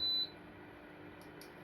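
A kitchen timer gives one clear beep at the start, followed by a couple of faint, brief tones against quiet room hiss.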